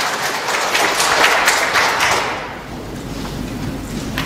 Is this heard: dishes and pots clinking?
no